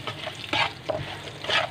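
Semolina frying in a small amount of ghee for sweet suji halwa, stirred with a spoon in a pan, giving soft scraping swishes in several bursts over a low, steady frying hiss.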